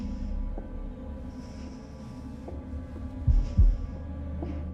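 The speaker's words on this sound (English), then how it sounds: "Press X in time with the heartbeat" A low, steady heartbeat thumps through a tense moment in the horror video game The Dark Pictures: The Devil in Me, with regular throbbing pulses under a dark droning hum, and no one speaking.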